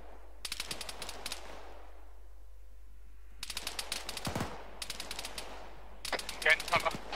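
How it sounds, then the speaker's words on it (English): Bursts of rapid automatic gunfire crackle in the military video game Arma 3, several clusters separated by quiet gaps, moderately distant, with a low rumble and a brief swooping sound between volleys and no clear talking. "Not sure where those shots are coming in from."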